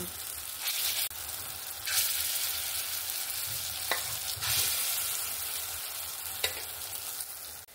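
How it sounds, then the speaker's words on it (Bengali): Lentil fritters (dal bora) fry in hot oil in a kadai, giving a steady close sizzle with a few sharp clinks and stirring scrapes as they are turned; no talk. "এই বড়াগুলো আমার উল্টে পাল্টে ভালো করে ভেজে নিয়েছি, আমি এবার তুলে নেব।"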